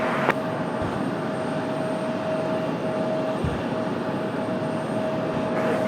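Embraer E175 jets taxiing at Raleigh-Durham International Airport, a steady broad engine roar with a sustained whine, continuous and moderately distant, no voices.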